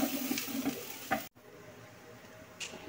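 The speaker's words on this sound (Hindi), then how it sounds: "हल्का सा इसको सॉटे करेंगे, बस को हमें कलर नहीं देना है" Chopped onion sautés lightly in hot oil in a frying pan, a steady close sizzle with soft stirring scrapes, one brief sharp drop to silence, then the frying continues.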